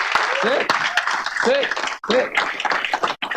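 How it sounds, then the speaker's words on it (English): Attendees at a clinical learning environment meeting give one more round of applause, with scattered clapping under overlapping voices and laughter. "So one more round of applause, and then you can sit if you want."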